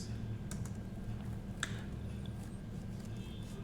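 Typing on a computer keyboard, a steady run of quick, close key clicks with an occasional louder keystroke, heard alone without speech.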